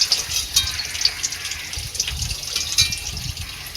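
Running tap water splashing as meat is washed in a home kitchen, a steady near gush with irregular spatters and surges throughout.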